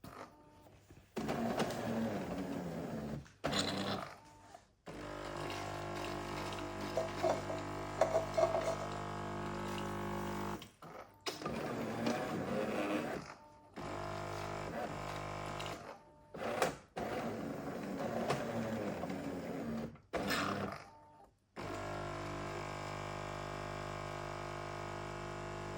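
A Jura Ena 8 coffee machine works through its cleaning cycle in repeated bursts of pumping and whirring, broken by short silent pauses, at a quiet, close level with no voices.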